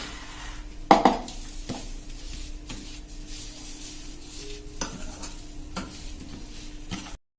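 A spoon stirs a hot sugar, ghee and flour mixture for sukhadi in a pan, giving a quiet, steady scraping under a low background hum, with one louder clatter near the start and faint knocks later.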